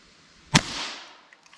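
A single sharp gunshot from a Remington Yellow Jacket .22 LR round fired from a rifle into ballistic gel, a close crack followed by a short fading echo and faint small clicks.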